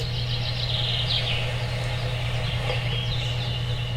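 A chicken is fed in the farming video game Force of Nature, with repeated chirping, clucking calls over a constant low electronic hum and a dense background bed.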